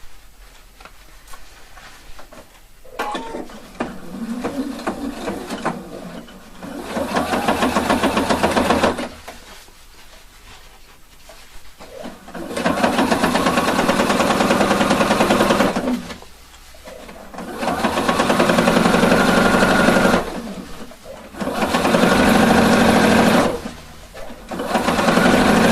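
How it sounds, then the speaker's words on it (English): Sewing machine stitching a 1 centimeter seam on an elastic waistband: loud close mechanical whirring in several long runs of a few seconds each, broken by short quiet pauses, with no talk. "Now stitching 1 centimeter seam allowance."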